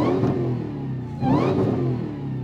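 A Dodge Demon 170 revs on the street, the engine note climbing, easing off, then surging again around the midpoint before settling into a steady drone, loud and close with no talk.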